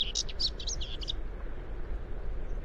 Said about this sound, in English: here's the song of a common white-throat in the same area.